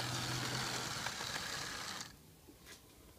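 An old Lima Class 52 model locomotive fitted with a DCC chip gives a faint, steady motor whir for about two seconds, then cuts off, leaving a few soft clicks in a quiet room.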